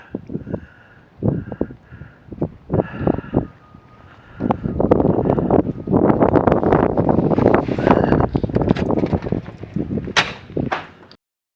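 Gusty wind buffets the microphone at an airfield by a windsock, coming in heavy rumbling bursts that swell and fade, loud and close throughout.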